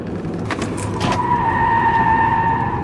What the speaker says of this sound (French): Alors les pneus crissent vite